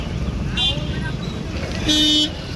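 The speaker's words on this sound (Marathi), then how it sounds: "एवढी ट्रॅफिक आहे ना" Car horns honk in heavy road traffic, two distinct toots about a second apart standing out over a steady engine and street rumble, with a person talking nearby.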